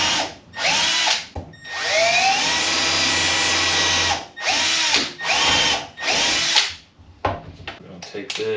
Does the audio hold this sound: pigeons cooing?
no